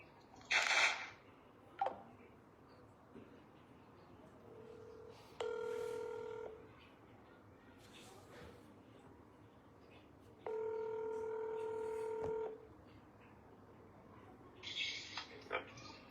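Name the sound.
telephone dialing tones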